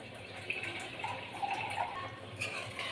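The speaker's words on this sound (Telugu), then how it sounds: "మరి ఇంకా కొంచెం వాటర్ పడుతుందండి." Water poured into a cooking pot of paneer curry pieces, a soft steady splashing and trickle with a few brighter splashes, continuous and fairly quiet throughout.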